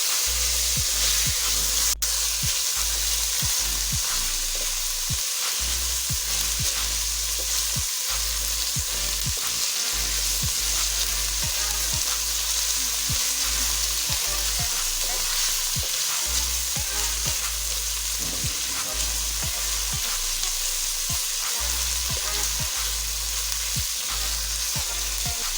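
Green peas frying in hot oil for matar pulao, a loud continuous close sizzle with occasional stirring clatter and no talking throughout.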